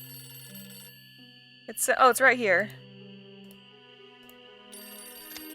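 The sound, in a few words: telephone ringing in Nancy Drew video game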